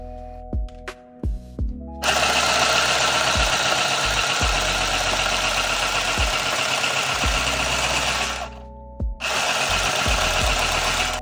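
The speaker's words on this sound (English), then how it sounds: "Next, let's try to sew these 2 pieces of felt." A mini handheld sewing machine stitches through two pieces of felt, running in one loud, steady mechanical chatter for about six seconds after a few short clicks and brief starts, then stopping and giving one more quick burst.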